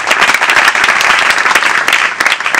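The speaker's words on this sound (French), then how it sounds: "je voudrais que nous puissions applaudir pour les représentants" A crowd claps loudly and continuously for student representatives at a formal ceremony, a thick, even burst of applause filling the whole stretch without pause.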